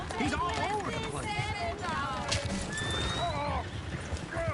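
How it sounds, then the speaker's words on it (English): Horses whinny repeatedly while hooves clatter at a gallop in the video game Red Dead Redemption 2, loud and busy, with voices mixed in. "Oh, shit, the horses!"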